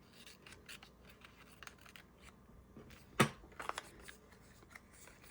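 Scissors or a blade cutting material for a folio panel, a series of soft snips and rustles close by, building to one sharp loud cut near the middle followed by a few smaller clips and handling sounds.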